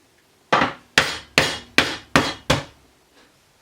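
Six sharp, evenly spaced hammer blows drive small nails into a wooden box under assembly, each strike loud and close with a quick decay, followed by faint handling noise.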